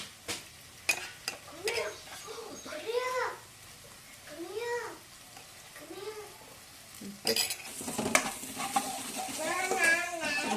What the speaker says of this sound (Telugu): మంచిగా మనమైతే మంచిగా ఆడుగట్టకుండా కలుపుకోవాలండి